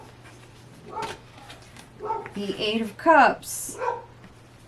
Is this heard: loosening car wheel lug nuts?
no